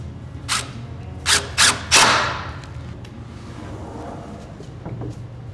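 Bi-parting barn doors rolling on sliding track hardware, with several quick thumps close together, one longer rolling slide that fades out, and a quiet room tone afterward.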